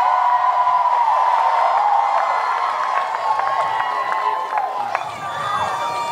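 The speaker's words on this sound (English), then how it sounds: "If by applause, is anyone interested in seeing a Daryl love scene?" A convention audience on a fan cruise applauds and cheers, a dense sustained crowd roar with whoops and clapping, loud and steady before easing slightly toward the end.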